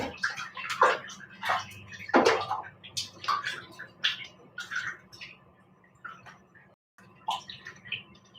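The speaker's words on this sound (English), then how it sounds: "Quick hand wash." Hands being washed under a running tap during home cooking, a steady splashing water stream with irregular louder bursts and scrubbing, briefly pausing near the end before resuming.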